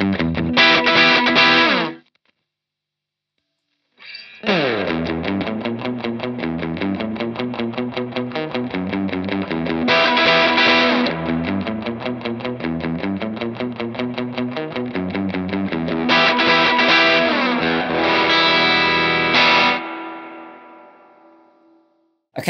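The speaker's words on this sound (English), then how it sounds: "if I play that opening riff, you really hear it on the palm mute because you get that classic Spring Reverb drip." Palm-muted electric guitar riff played through a real spring reverb, chugging repeated notes with the reverb's dripping splash and long ringing tail, loud and close; a short silent gap interrupts early and the last notes decay into reverb.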